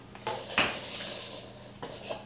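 A metal pan is handled and knocked in a kitchen, sharp clanks and rattles at intervals over a faint hiss, fairly quiet and close with no talking.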